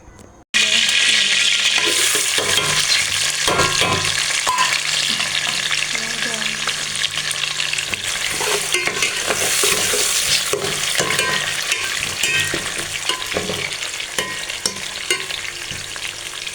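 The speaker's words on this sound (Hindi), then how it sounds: "प्याज हमारा फ्राई हो जाएगा फिर हम डाल देंगे ये अदरक लहसुन" Onions sizzle and crackle loudly in hot oil for chana dal with spinach, a constant frying hiss with occasional stirring clatter and no talking.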